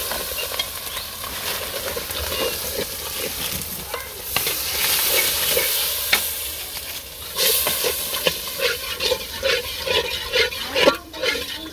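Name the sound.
fish frying and being stirred in a pan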